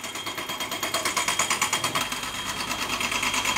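Jackhammer at a construction site in Vietnam, a rapid steady pounding rattle carried through street noise from moderately far away, continuous with no talking.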